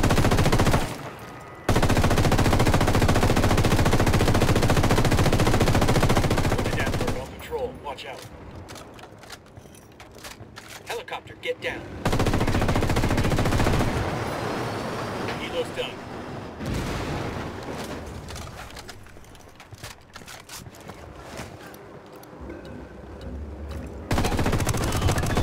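Sustained machine-gun fire and heavy gunshots in Ghost Recon Wildlands as waves of soldier reinforcements are cut down, loud bursts broken by brief lulls, with speech at times.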